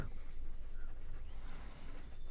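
Pen or marker writing out a tangent step in a class 10 circles geometry solution, a steady soft scratching that runs alone and close throughout, with no talk over it.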